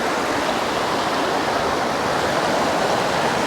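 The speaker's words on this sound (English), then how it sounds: "Wade through the water to get all the way up to the falls themselves." A waterfall and the shallow stream below it roar in a steady, loud, unbroken wash of rushing water, with no voices.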